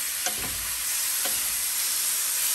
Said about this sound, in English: sizzling beef